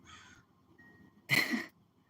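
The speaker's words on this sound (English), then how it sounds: "crows, do you hear them? This is kind of late for them to be here" Crows caw close by in a single loud harsh burst after a quieter call, late in the season, with faint background noise and no talk.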